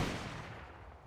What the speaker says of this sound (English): Okay, so 1 rocket right at the wall.